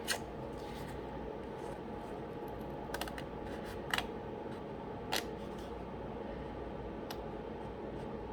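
Scissors cut through stiff tag board, giving a few sharp, isolated snips spread out over steady, quiet room noise.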